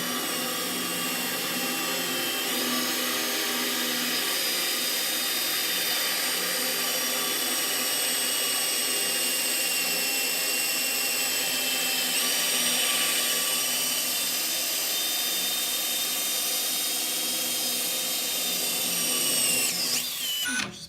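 A power drill bores into a wooden wall stud while a shower shelf is being installed, giving a loud, continuous, high-pitched whine that holds steady for about twenty seconds before cutting off.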